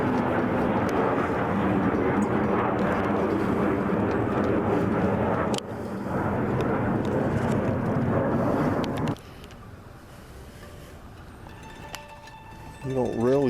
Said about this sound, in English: There goes a jet overhead.